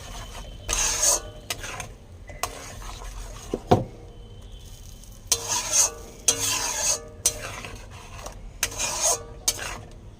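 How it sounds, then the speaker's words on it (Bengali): Malai katla fish curry slowly stirred in a pan on low gas, producing repeated bursts of spoon scraping separated by quiet pauses, with one sharp knock midway, close and moderately loud. "গ্যাসটাকে কমিয়ে আস্তে আস্তে নাড়বো"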